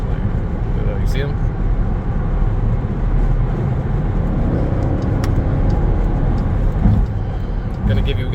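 A Dodge Durango R/T with a Hemi engine drives at night, giving a steady, close engine and road drone inside the cabin with people talking over it.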